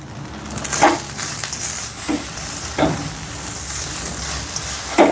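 Rice with cumin, garlic and coriander tossed in a hot pan, a loud steady sizzle punctuated by several sharp scraping tosses spaced a second or two apart, up close with no voices.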